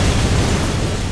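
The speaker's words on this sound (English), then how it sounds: "Ah! Explosions!" Explosions in the video game Skul: the Hero Slayer, a dense, continuous loud rumble of blasts and noise that fills the whole moment without a break.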